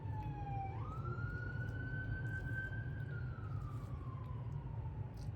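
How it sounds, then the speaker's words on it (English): An ambulance siren outside wails, rising and slowly falling in pitch, somewhat distant and faint over steady background noise. "Sounds like there's an ambulance outside."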